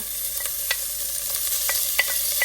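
Steady crackling sizzle of pancetta frying in a hot pan, crisping, with small pops scattered throughout, loud and close.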